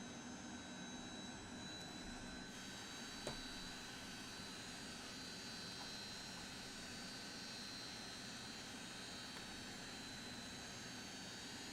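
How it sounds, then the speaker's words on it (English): Engines of a Lockheed Jetstar in Microsoft Flight Simulator spin up in a continuous loud turbine roar with a high whine, steady and close throughout. "Our engines are spinning."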